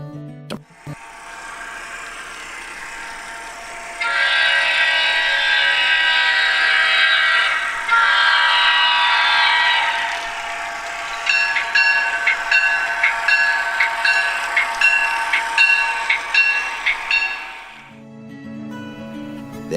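Atlas model Trainmaster locomotive with a dual-mode digital sound system, its diesel engine drone steady and close, then a long horn blast followed by rhythmic bell-like clanging before the sound cuts out.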